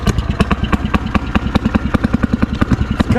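A Fairmont M9 two-stroke engine, still cold just after starting, runs close by with a fast, steady popping exhaust beat and a slightly uneven, clattering idle throughout.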